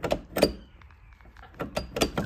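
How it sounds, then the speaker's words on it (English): A key turns in a Triumph TR6 car door lock, giving a few sharp metallic clicks and clunks separated by a quiet pause. "So here the door lock actually works."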